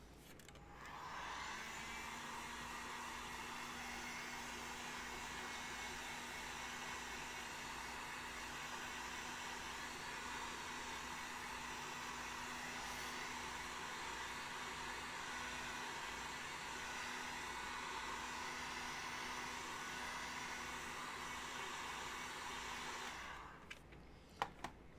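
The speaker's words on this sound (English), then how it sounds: "get your heat gun." A heat gun runs steadily for about twenty seconds with a constant airy roar and faint hum while cosplay foam pieces are worked, then cuts off abruptly near the end.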